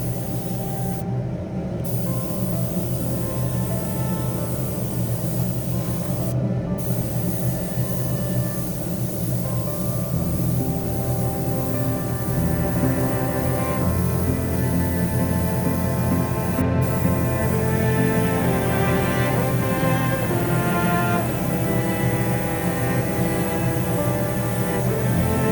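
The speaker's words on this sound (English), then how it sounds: "Smaller airbrush helping to fix the lines, panel lines, smaller areas" Airbrush spraying paint onto a BMW M4 G82 wide body kit, a steady continuous hiss that runs the whole time with only brief breaks, close and fairly loud, no talk.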